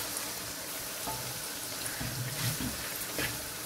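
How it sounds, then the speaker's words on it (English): Steady, dense sizzling of onions frying in a hot pan for chicken karahi, with faint stirring clatter partway through and no voices. "This is sizzling, I'm going to add in the chicken."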